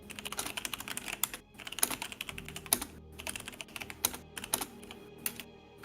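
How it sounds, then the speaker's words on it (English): Rapid typing on a computer keyboard during a live game stream, a dense run of close, crisp key clicks in uneven bursts with short pauses between them, no talking over it. "I'm just typing to GLaDOS."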